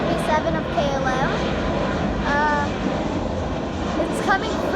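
A KLM Boeing 737 passes over an airport in Rotterdam, its jet engine roar a steady broad rumble at moderate distance, with people chatting over it and birds chirping briefly.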